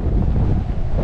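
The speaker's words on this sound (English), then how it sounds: "There was a big gust of wind that came up." Strong gale wind gust buffets the microphone aboard a sailboat on the Bay of Biscay, a loud continuous low roar with no talk.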